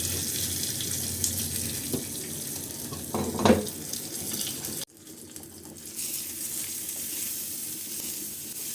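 Curry leaves and a pinch of asafoetida hitting hot oil with mustard seeds and urad dal, a tempering for capsicum chutney: a loud, steady frying hiss with a sharp flare midway, then a brief dip and renewed sizzle, no talk.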